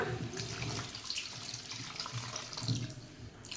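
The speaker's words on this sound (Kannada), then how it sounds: "ನೀರು ಹಾಕ್ಕೋಬಿಡೋಣ" Water poured into a pan of prawn curry as it cooks, a steady soft splashing stream running throughout without pause, fairly quiet and close.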